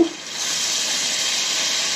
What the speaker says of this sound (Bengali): ঢেঁড়স ভাজি